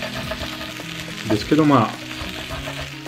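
Yakisoba fries and scorches on a Peyoung roast maker with a close, steady sizzle, while someone talks briefly over it.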